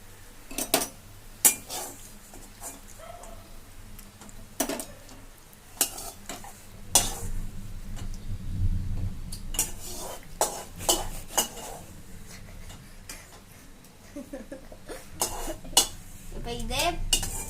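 Golden fried cashews and raisins scooped out of a hot pan while making carrot halwa: repeated sharp scrapes and clinks of a spoon against metal over a soft, steady sizzle, fairly close.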